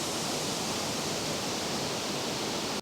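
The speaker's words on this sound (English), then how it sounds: "Look at all that water." Waterfall pouring down in a steady, dense broadband roar, loud and continuous throughout with no voices, then stopping abruptly at the end.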